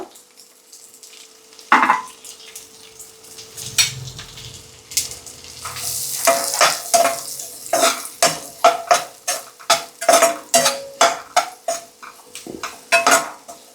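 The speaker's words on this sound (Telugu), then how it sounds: "బటర్ కరుగుతోంది కదా ఇప్పుడు మనం ఆనియన్స్ వేసుకుందాం" Chopped onion pieces fry in melted butter in a pan for Hyderabadi green chicken curry. A soft sizzle runs under a rapid, steady series of close scraping strokes as the onions are stirred, with no talking.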